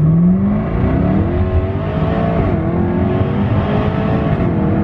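A Jaguar F-Type SVR with all-wheel drive accelerates hard from a standstill without launch control, its engine note climbing steadily through the gears, loud and close throughout with no break.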